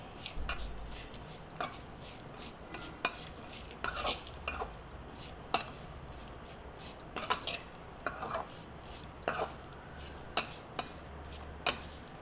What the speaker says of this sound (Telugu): ఒక్కసారి కలుపుకుందాం